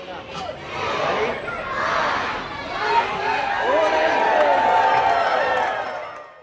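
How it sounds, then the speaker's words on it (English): Crowd at an outdoor Christmas tree lighting with Santa Claus, voices rising together in a countdown and swelling into cheers, dense and mid-distance, with chatter mixed in. "Old St. Nick led the night's crowd with a countdown and a couple magic words"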